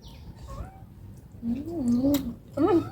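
A cat meows several times nearby, drawn-out wavering cries with quiet gaps between them.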